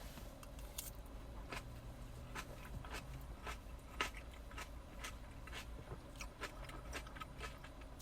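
A crunchy bite of a low-carb, meat-focused meal with tomatoes, heard as a series of sharp, close crackling crunches scattered over several seconds against a quiet background.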